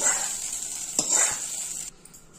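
Mustard seed tempering is poured into a chutney for idli and dosa, giving a loud, close crackling sizzle with a stirring scrape partway through, fading abruptly near the end.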